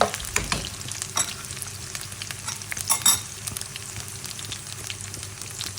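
Onions browning in a pan for homemade chicken masala pasta sizzle steadily up close, broken by several sharp scraping strokes of a spoon stirring through them, with no voices.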